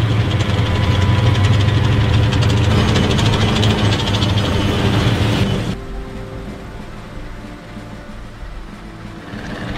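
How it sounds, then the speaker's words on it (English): Tank and truck engines roar in a heavy, loud, rumbling drone with knocking idle tones, then drop abruptly to a quieter low engine rumble. "Then came the roar of engines in tanks and trucks"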